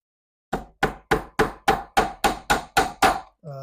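Nails are hammered into a wooden board being prepared for a triptych picture: ten sharp, evenly spaced blows ring out loud and close, followed by a brief duller knock.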